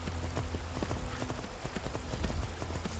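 Steady rhythmic clip-clop of horse hooves trotting in the video game Skyrim, close and continuous over a constant low background hum.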